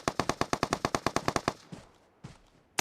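Automatic gunfire in the mobile battle-royale game PUBG Mobile, a rapid burst of about fifteen loud, evenly spaced shots followed by a few scattered single shots, with no talk over it.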